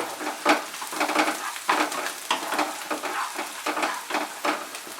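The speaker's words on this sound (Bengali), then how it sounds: "রসুনটা দিয়ে আমি আরো এটাকে 1 মিনিট ফ্রাই করব।" Chopped garlic fries in a pan over medium heat while being stirred, a steady sizzle with rhythmic scraping strokes of a spatula repeating every second or so.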